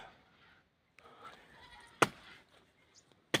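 Goats waiting to be fed acacia fodder bleat in short bursts near the camera, with two sharp louder cries standing out among quieter rustling.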